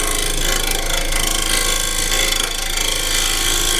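A woodturning tool takes light cuts on a lathe spinning around 2000 rpm, giving a steady buzzing, chattering scrape with a low mechanical hum underneath and no voices.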